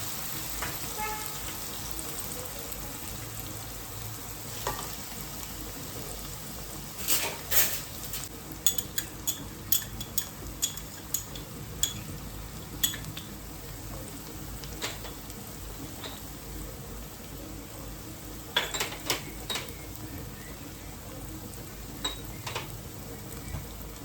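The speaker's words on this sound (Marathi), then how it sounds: "आता त्यामध्ये आपण सर्व मसाले एकजीव करूया आणि चांगले परतून घेऊया" Tomato and spices are sautéed and stirred in a pan for Agri-style val bhaji, a steady soft sizzle with sharp clinks and scrapes of a spoon against the pan arriving in bursts, mostly in the middle and late stretch, with no talking.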